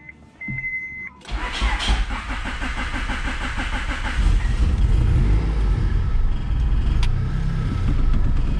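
A 1994 Honda Accord churns loudly as its starter cranks the engine for several seconds, a continuous rough grinding that never settles into a clean idle, heard close with no speech over it.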